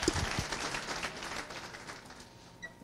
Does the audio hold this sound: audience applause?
yes